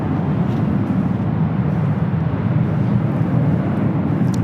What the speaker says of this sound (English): United Dreamliner heading to Newark, flight 1855 is 787-9 Dreamliner, taking off there on the south side